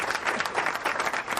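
Loud, dense round of applause from many hands, continuous and close, swelling briefly with no voices over it.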